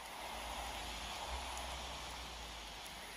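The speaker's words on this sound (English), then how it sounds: "This rain sucks." Rain falling steadily outdoors during a January trapping outing, a soft, even hiss of drops without pause, fairly quiet and with no one talking.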